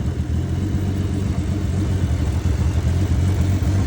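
Datsun 280ZX with a turbocharged L28 engine and new ECU idling nearby, a steady low rumble with a slight dip as the idle drops.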